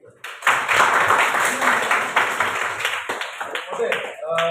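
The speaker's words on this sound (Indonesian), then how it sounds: "Tepuk tangan untuk kita." An 11th-grade geography class claps hands together in a classroom, a loud, dense burst of many hands that starts abruptly and slowly thins out, with voices talking over it.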